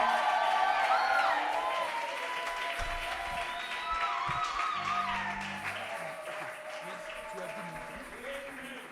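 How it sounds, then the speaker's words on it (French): A church congregation applauds and cheers during a Christian fasting-and-prayer service, a steady wash of clapping and crowd voices with tonal music-like sounds running through it. "encourageons-le par des acclamations."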